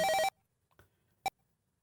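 Push-button phone tones followed by a short ring in the Police Quest video game, a clipped electronic tone burst then a faint pause and one brief bright ring, alone without talk.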